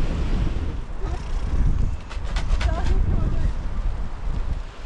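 Strong headwind buffeting the microphone while cycling through Tajikistan's Bartang Valley, a rough continuous low roar that swells and dips in gusts throughout.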